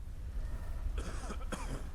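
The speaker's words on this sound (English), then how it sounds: "I'm sick of these coughs." Two short, rough coughs from a sick character in the Skyrim video game, one after the other over a low rumbling background, fairly close.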